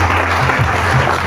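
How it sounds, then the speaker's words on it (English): An audience at a graduation assembly claps together, a dense, loud, even patter of many hands filling the whole moment. "Clapping is to encourage."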